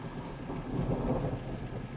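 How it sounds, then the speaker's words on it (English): Rolling thunder during a rain and lightning storm, a low sustained rumble swelling and fading over steady rain noise, with no talking. "the rain and the lightning started"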